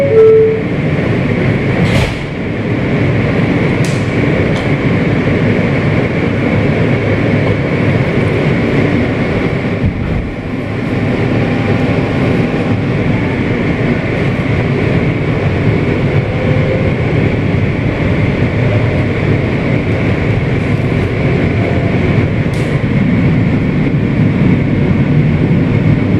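A New York City subway W train, a Kawasaki R160B with Siemens propulsion, rides toward Bay Parkway: a loud, continuous rumble and hum of wheels and motors, with a few brief squeals and clanks along the way.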